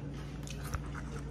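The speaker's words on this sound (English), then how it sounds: "I'm eating some of these Funyuns." Crunchy Funyuns onion-ring snack being chewed up close, a steady crunching and mashing with one sharper bite near the middle, no talking.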